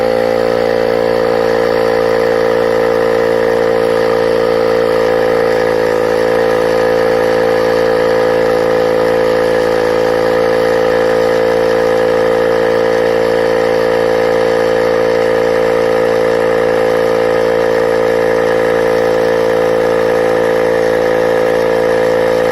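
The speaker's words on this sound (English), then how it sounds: "So now I'm going to put the pump on" A Bergmann Typhoon analog tyre inflator pumps up a car's low spare tyre, giving a loud, steady motorised drone that holds without a break from start to finish.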